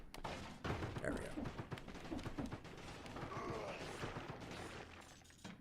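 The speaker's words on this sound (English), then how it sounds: "I think there was a scorpion because I heard 3 explosions." Explosions from a scorpion enemy in the game Dead Cells, a cluster of loud bursts and crashing blasts layered over busy game effects and a voice talking.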